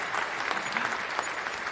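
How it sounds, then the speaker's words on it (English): Recorded applause sample triggered through WebMIDI during a tech talk, a brief, dense burst of crowd clapping played back at steady volume. "I think it's playing applause if I do this one."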